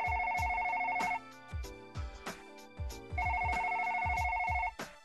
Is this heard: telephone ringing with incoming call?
yes